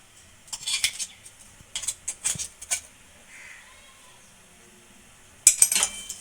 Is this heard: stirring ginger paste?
yes